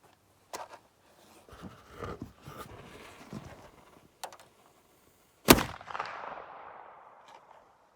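A flintlock rifle with a Hugh Toenjes style rifled barrel fires a proof shot: one sharp, loud report whose rumble trails off over a couple of seconds, after scattered handling clicks and knocks.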